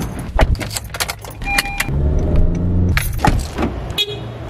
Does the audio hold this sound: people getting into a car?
yes